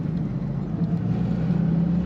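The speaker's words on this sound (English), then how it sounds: "Beautiful car, purrs quietly, starts easily" A 1940 Lincoln Zephyr idles quietly and smoothly, a soft, even low hum held steady up close, with no voices over it.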